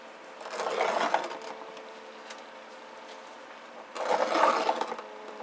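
Steel dividers scribing smaller circles onto sheet metal for pipe end caps, heard as two separate bursts of dry scraping, each lasting about a second, with quiet between them.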